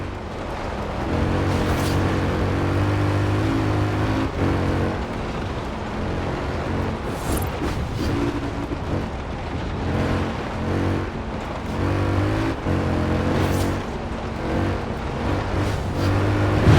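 Mini X-Raid Dakar rally car in Forza Horizon 4, its engine a deep, steady, heavy drone with rumbling low tones and slight surges in revs, loud and continuous throughout.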